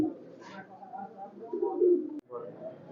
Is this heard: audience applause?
no